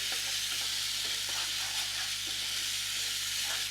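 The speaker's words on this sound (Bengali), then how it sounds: "এবার মশলাটাকে ভালো করে কষাতে হবে" Spice masala for a Bengali prawn and pointed gourd dolma stir-fried in a pan: a steady close sizzle with a constant hiss and light scraping under it, no talk.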